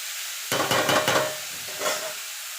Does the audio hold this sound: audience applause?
no